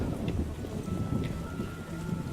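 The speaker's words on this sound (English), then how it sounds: "What a downpour!" A heavy, steady downpour in the video game The Witcher roars without pause, dense rain noise with a low rumbling undertone.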